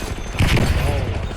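Video game shooter gunfire: a quick cluster of loud, close shots with booming low end, packed into about a second over background game noise.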